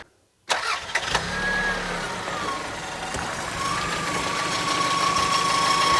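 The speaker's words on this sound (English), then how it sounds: "Let me go ahead and actually turn on the car so you can actually get a little idea of what it sounds like." A 1995 Toyota RAV4 L, a first-generation three-door right-hand-drive Japanese-market model, starts with a brief crank, then settles into a quiet, smooth, steady idle close to the recording.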